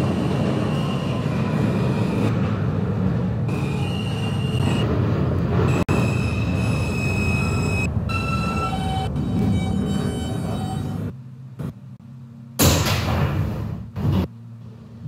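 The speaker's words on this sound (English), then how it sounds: "This is a 207th Street bound A express train." An A express subway train on a New York line in a Roblox game rumbles steadily along the track for about eleven seconds with whining motor tones, then slows to near quiet before chimes and a door sound near the end.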